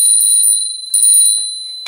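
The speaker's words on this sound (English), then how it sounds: "a bell rings" A bright bell rings two clear, sustained strokes to end a timed postcard-puzzle round at a competition in Spain, sounding loud and close with a ringing tone, followed by a brief clatter.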